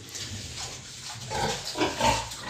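Pigs grunting and snuffling inside a farm building in winter, a low continuous murmur of several animals with a few louder grunts near the end, close but moderate in volume.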